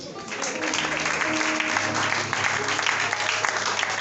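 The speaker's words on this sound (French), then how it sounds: "Acclamons le Seigneur" A church congregation at a sermon breaks into sustained applause, a dense steady clatter of many hands filling the room, with voices and a low hum of music running beneath it.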